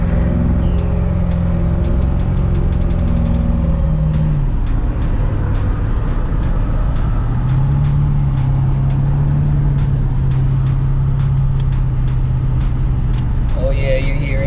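Interior of a moving Chevy, with a steady, loud road and engine drone that fills the whole stretch, a shift in tone partway through, and no talk heard.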